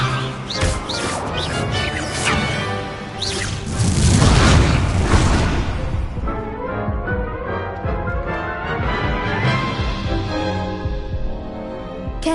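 In the Hogwarts Legacy video game, an Expelliarmus spell is cast with a loud booming impact and whooshing effects that ring out in a sustained, dense swell of game sound, with no talk.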